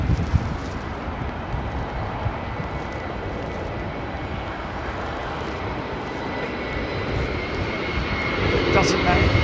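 Jet airliner landing in a crosswind at London Heathrow Airport, a steady broad engine and airflow roar that swells slightly near the end, with people talking over it.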